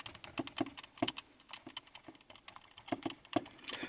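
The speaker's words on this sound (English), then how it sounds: "You can hear these buttons." Plastic buttons on RCA WAVE-55 headphones click sharply and irregularly, a close series of light taps with short gaps and no talking.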